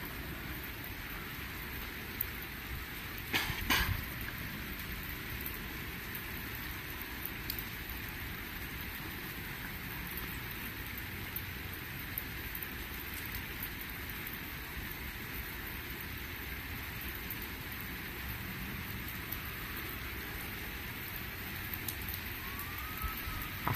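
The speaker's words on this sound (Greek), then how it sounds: "Αυτή η βροχή σήμερα" Heavy thunderstorm rain in Athens falls in a dense, steady hiss and patter on surfaces, unbroken for over twenty seconds, with a brief sharper crackle early on.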